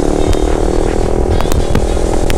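Honda CBR 150 sport motorcycle engine revving hard during a performance ride, a loud, steady high-rpm drone with a few sharp spikes, continuous throughout the short stretch with no talk.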